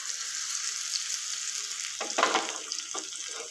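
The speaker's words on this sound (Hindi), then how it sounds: "और इसमें डालेंगे लहसुन, जीरा और लाल मिर्च, खड़ी लाल मिर्च दो" Garlic, cumin and whole dried red chillies hit hot oil for a tempering while making palak paneer, giving a steady bright sizzle throughout that swells into louder crackling and spattering near the end, with no one talking.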